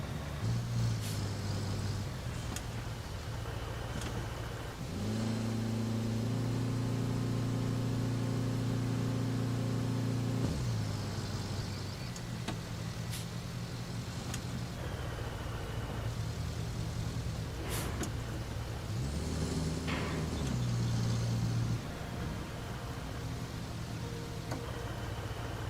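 Truck engine in the RoadCraft video game, steady and close, its pitch shifting as the vehicle turns around and reverses toward a tractor, with sustained mid-range engine drone and occasional clanks.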